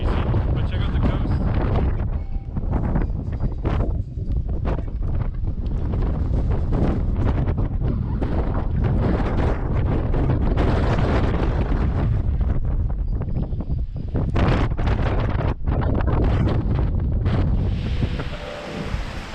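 Strong wind buffeting the microphone on the English coast, a constant loud roaring rush with gusting surges and the sound of surf underneath.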